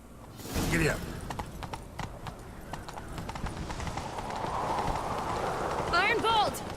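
Hooves clip-clop rapidly as a horse gallops in The Witcher 3, close and steady under a voice, with a neigh or whinny near the end.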